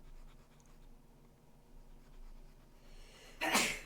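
A single sharp sneeze near the end, loud and close, following a few seconds of quiet room noise with no talk.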